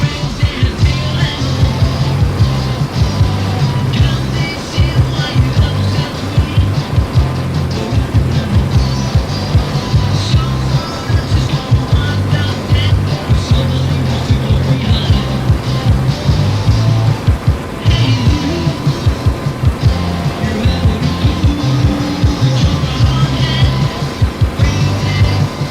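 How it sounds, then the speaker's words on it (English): Aircraft engine in the DCS flight simulator game with the canopy closed, a loud continuous roar and rumble that stays steady throughout. "Can you hear the engine?"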